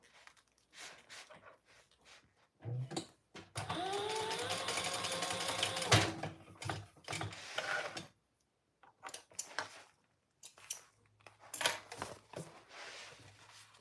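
A domestic sewing machine stitches fabric pattern pieces for a doll outfit together, running in a steady mechanical whir for about four seconds, with shorter bursts of stitching and handling noises before and after.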